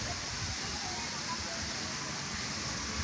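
Steady, soft rush of flowing water at Pusang waterfall in a forest setting, a continuous broadband wash with no talk.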